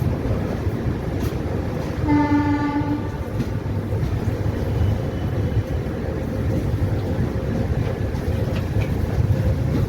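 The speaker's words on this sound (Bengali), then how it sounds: "আমাদের ট্রেন এখন সাঁতরাগাছি জংশন ছেড়ে দিয়েছে" The Garib Rath Express (12881) runs just after leaving Santragachi junction, giving a constant rumble of wheels and carriages. A horn sounds for about a second early on, and the rumble carries on without talk.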